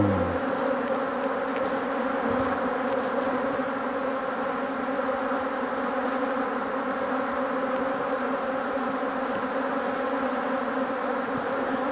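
Dense, steady buzzing of many honeybees from a hive being split into an artificial swarm, a continuous close drone that holds level throughout with no talk.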